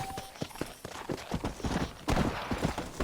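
Horse hooves clip-clop at a steady trotting rhythm in the Western video game Red Dead, close and fairly loud, with a brief tonal game sound at the start.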